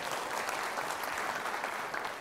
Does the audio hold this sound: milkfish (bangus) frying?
no